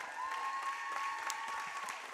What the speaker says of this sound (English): Nice applause here from the Mid-Michigan faithful and the Maury Courts faithful.